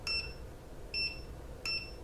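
A Fochanc DM003 smartphone multimeter in continuity mode gives three short, clear electronic beeps, evenly spaced, over a faint background hiss.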